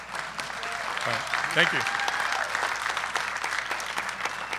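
A town hall public forum audience breaks into sustained applause that carries on throughout. A person briefly speaks near the start, over the clapping.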